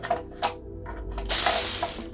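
A power ratchet undoes lightly tightened engine bolts on a Reliant Regal Supervan 3 engine during a garage rebuild. Short mechanical clicks come first, then a loud, close, buzzing whir of the tool spinning a bolt free.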